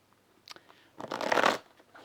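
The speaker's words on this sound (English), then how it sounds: "Let's give these a shuffle." A tarot deck is shuffled by hand, a few quiet card flicks followed by a louder, brief riffling burst, close and alone.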